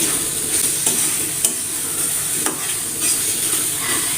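Cumin powder being stirred into a North Indian curry in a pan, with a steady frying sizzle under several distinct spoon scrapes spaced irregularly; no one talks.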